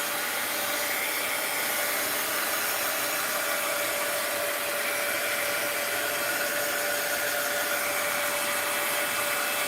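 A hair dryer blows steadily on a mixed media art journal page painted with gold flowers, a loud continuous airy whir with a faint tonal hum, unbroken for the whole stretch and with no talking.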